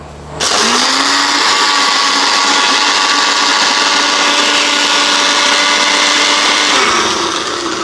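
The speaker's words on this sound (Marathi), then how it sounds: "आता आपण हे ब्लेंड करून घेतो आहे." An electric blender whirs steadily, close and loud, mixing coffee with sugar and warm water into a frothy cold-coffee base; the motor starts abruptly, holds an even pitch for several seconds, then begins winding down.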